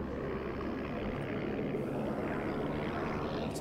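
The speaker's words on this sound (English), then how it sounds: "It's a German bomber." A German Heinkel 111 bomber from the game Medal of Honor drones overhead, its propeller engines making a continuous, fairly soft broadband roar that stays steady throughout.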